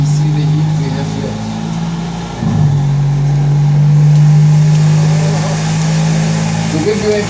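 A Mercedes-AMG M178 V8 runs on a dyno with a loud, steady, low droning hum that dips briefly and then holds, while someone talks over it.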